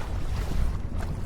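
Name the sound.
gusty wind while wing foiling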